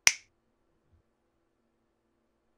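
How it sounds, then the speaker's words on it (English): One crisp finger snap, close and sharp, right at the start, followed by near silence. "Now watch me snap my fingers."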